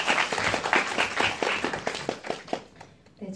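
Audience applause after a Korean short film screening Q&A at the Seoul International Pride Film Festival, a steady patter of many hands clapping at moderate level that thins out toward the end.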